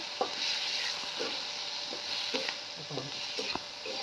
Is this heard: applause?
no